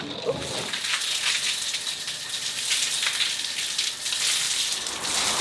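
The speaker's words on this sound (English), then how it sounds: "the rain has started, and it's raining like a lot" Heavy rain falls at night at a safari camp as a loud, dense, continuous hiss of water pouring on surfaces, with no distinct thunder clap standing out.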